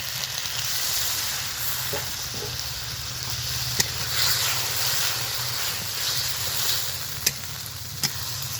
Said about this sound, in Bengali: এবার মশলা ধোয়া জলটা আমি দিয়ে দেব।